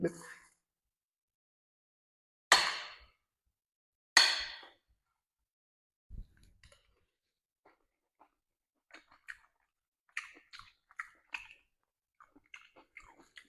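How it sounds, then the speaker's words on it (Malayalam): Homemade noodles are eaten at close range: a few sharp bites and crunches are followed by sparse, quiet chewing sounds, with some brief voice sounds in between. "അപ്പം കഷ്ടപ്പെട്ട് ഉണ്ടാക്കിയ സാധനം ഒന്ന് കഴിച്ചു നോക്കട്ടെ എങ്ങനെയുണ്ടെന്ന്"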